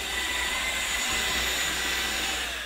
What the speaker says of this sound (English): try to vacuum with my left hand instead of my right hand